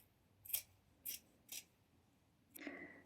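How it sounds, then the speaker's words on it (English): Scissors snip through fabric along a stitched blouse centre back in three quick, close cuts, followed by a longer rustling slice, all crisp and near against quiet. "Now you can cut down that centre back area where you've just stitched."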